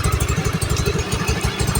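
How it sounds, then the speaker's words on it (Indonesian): A Honda Vario 110 scooter engine idles close by on its first start during a radiator and compression-leak check, giving a fast, steady, even low putter with light mechanical clatter and no talking. "Ini untuk pertama kali mesin dinyalakan ya."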